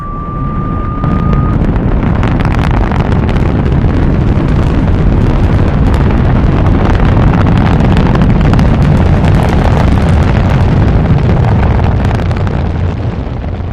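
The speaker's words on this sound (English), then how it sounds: "Countdown for blastoff." A rocket blasts off in a radio drama, a loud, dense, continuous roar that fills the whole stretch from start to end, with a brief tone at the start.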